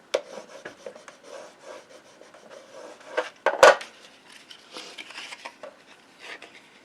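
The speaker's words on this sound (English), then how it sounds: "Burnish it down." Paper being burnished down onto a gift bag mini album base gives soft intermittent rubbing and scraping strokes, close and fairly quiet, with one sharper scrape in the middle and no voices.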